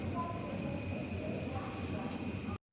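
A Vijayawada–Gudur Intercity train stands at a crowded railway platform, giving a steady, fairly faint rail hum with a constant high whine and an even background murmur throughout.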